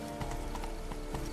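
In The Witcher 3, a horse gallops, its hooves beating a quick, steady clip-clop at moderate loudness over a soft game ambience.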